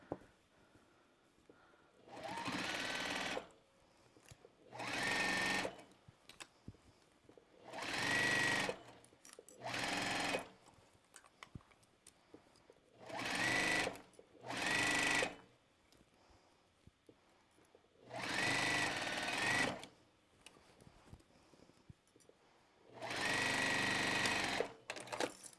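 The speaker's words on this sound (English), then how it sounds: "Make sure to sew this with about 1/4 of an inch." A sewing machine stitches a quarter-inch seam in scrap fabric for an Easter basket, running in repeated bursts of a few seconds separated by short pauses, close and alone without talk.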